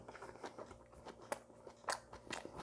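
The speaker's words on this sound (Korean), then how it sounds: "이렇게 싸서 먹어야지 맛있어요" Chewing a wrapped bite of braised pork rib with aged kimchi, with soft crunchy bites and a few sharper crunches, very close and quiet.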